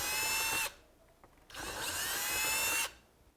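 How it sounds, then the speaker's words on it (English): A power drill bores through the plastic back panel of a Kawasaki KRX 1000 side-by-side in two loud bursts, a high whine broken by a short quiet pause between them. "mark the 2 mounting locations and then just drill through that"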